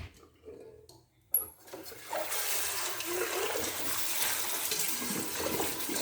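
A short silence and a clink, then a steady rush of dirty rinse water pouring and splashing out of a container of beans, continuous and close.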